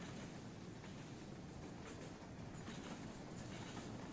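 A train in the video game Rolling Line rolls along its rails, a steady, low, continuous rumble with faint clickety-clack texture throughout, fairly quiet and unbroken.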